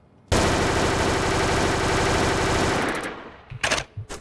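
A fully automatic video game gun fires at far range in one sustained rapid burst of about three seconds, loud and dense, followed by a few shorter trailing bursts.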